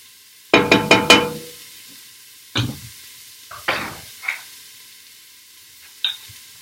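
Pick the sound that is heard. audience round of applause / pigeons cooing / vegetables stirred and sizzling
vegetables stirred and sizzling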